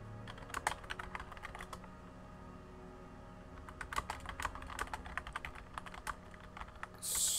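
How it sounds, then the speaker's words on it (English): Keys clatter on a computer keyboard in quick, uneven bursts of typing with short pauses, close and fairly quiet, with no voices. "So just typing stuff."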